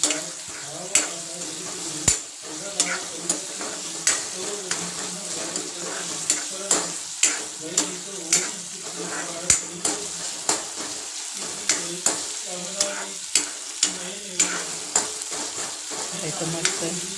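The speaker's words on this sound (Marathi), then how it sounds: "इथं मस्त भाजून घ्यायचं आहे कांदा।" Onion fries in plenty of hot oil for a brinjal-potato curry, a constant close sizzle punctuated by regular metallic scrapes and taps of a spoon stirring against the pan roughly every second, with no talking.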